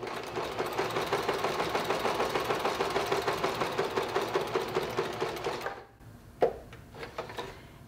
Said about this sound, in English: lower the presser foot and stitch up to the next corner.